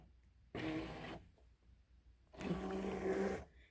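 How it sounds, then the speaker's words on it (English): A Brother ScanNCut SDX225 cutting machine draws its mat in with two short mechanical whirring bursts, the second longer with a steady motor tone, separated by a quiet pause and heard up close. "push this load button here, and it's going to load it into the machine"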